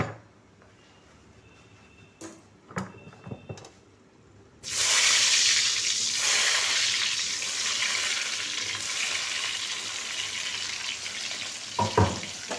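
Two medium onions hitting hot oil: after a few light clatters, a loud sizzle bursts in and holds as a dense, steady frying hiss, with a couple of stirring knocks near the end, close and without speech.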